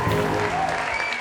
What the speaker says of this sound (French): applaudissez pour lui, s'il vous plaît, afin qu'il ait beaucoup de force.